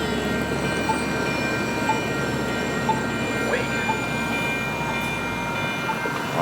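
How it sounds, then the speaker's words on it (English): Pacific Coastliner train passing a railroad crossing in San Diego, a continuous near rumble of rolling cars with crossing-bell tones ringing over it and a faint horn. "Oh, here goes the train. This is the Pacific Coastliner."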